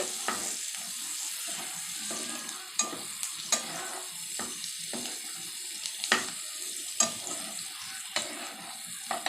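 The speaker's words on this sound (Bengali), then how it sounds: "এটাকে এবার আমি ফ্রাই করছি" Spices crackle and sizzle in a hot pan, a soft continuous hiss broken by sharp pops and clicks of stirring.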